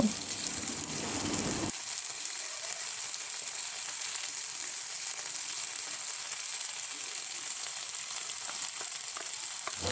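Potol, soyabean and potato curry spices fry in a pan with a loud, steady hiss, a short burst of stirring at the start before the sizzle settles into a continuous close crackle.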